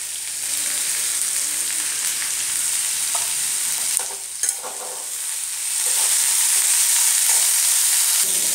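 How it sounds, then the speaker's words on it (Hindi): Turmeric, red chili, cumin and salt frying in a pan for spinach sabji make a steady, fairly loud sizzle with a few clinks and stirring scrapes midway. The sizzle then swells slightly stronger toward the end. "मसाला फ्राई हो गया है"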